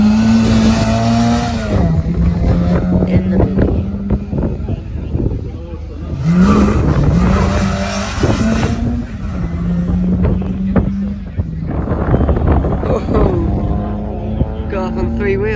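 Race cars at the Sandown sprint on the Isle of Wight, engines droning and shifting gears as they pass at a distance, with wind buffeting the microphone and a person talking over the noise.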